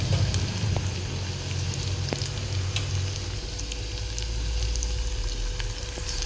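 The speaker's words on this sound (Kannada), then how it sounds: "ಈಗ ಉಳ್ಳಾಗಡ್ಡಿ ಫ್ರೈ ಆಗಿರ್ತದೆ." Sliced onions frying in a pan for sambar, a steady close sizzle and crackle of oil with occasional sharp pops and stirring scrapes, continuous and without talk.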